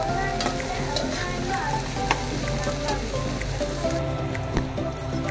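An egg fries in butter or ghee, a close, steady sizzle with light crackles and a soft stirring texture, continuous throughout.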